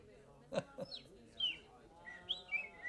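A bird chirps in several short, high tweets, fairly close and spaced irregularly, with a couple of brief sharp sounds between them.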